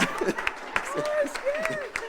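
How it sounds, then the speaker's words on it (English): Audience applause at a fifth anniversary Friday night event, a short burst of lively clapping with voices talking and calling out over it. "She got more applause than me."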